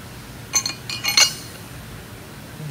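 A socket wrench with a 1 3/4 inch socket clinks as an adjustable choke seat is fitted into a 2-inch HH2 profile choke. A few short, bright metallic clinks fall close together near the start, then it goes quiet. No one speaks.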